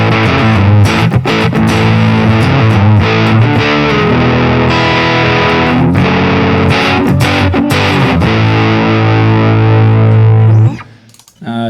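A Gibson ES-335, a 2023 model, played through the neck pickup with heavy distortion, chords and sustained notes ringing thick and loud, accented by sharp strums, with no talking before it stops abruptly near the end.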